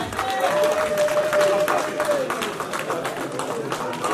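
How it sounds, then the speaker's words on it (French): A church congregation claps during a French-language evening vigil service. The applause is loud and steady, mixed with crowd voices and a sustained sung or shouted note throughout. "Acclamons pour le Seigneur."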